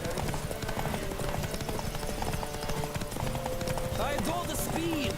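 Horses gallop in a race in The Witcher 3 video game, a rapid, continuous clatter of hooves under game voices and ambience, with a brief whinny near the end.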